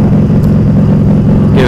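A motorcycle engine drones loudly and steadily while riding, a deep rumbling hum with wind noise close to a Sena Prism Tube helmet mic.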